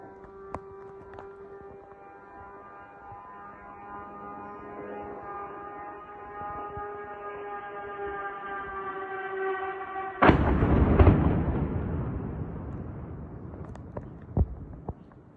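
Explosions during a Russian drone attack on Kyiv: a long, sustained wailing tone like a siren rises slowly, then a sudden loud blast erupts and rumbles for a few seconds, followed by a sharp distant thud near the end.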